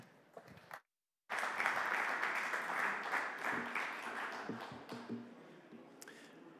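A conference audience at a 5G and broadband session breaks into warm applause after a brief silence, a dense clapping swell that gradually thins into scattered claps.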